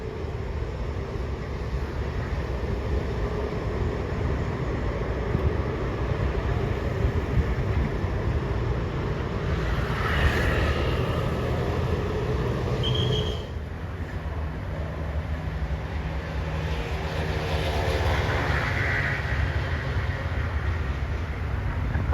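An express train pulled by a Hitachi locomotive rolls past Luang Chit station in Thailand, a loud, steady rumble of wheels and carriages lasting the whole stretch with no one talking.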